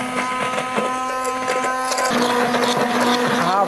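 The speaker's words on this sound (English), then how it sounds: "And now with a blender, let's see, give this a whirl." A blender whirs through a strawberry and sugar mixture for strawberry tiramisu, a steady close motor drone running the whole time with a few brief changes in pitch as it spins.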